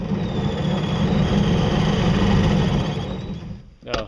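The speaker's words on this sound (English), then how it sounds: "never mind the motor squeak sound" A small electric motor driving a propeller whirs steadily with a faint squeak running through it, then winds down and stops near the end.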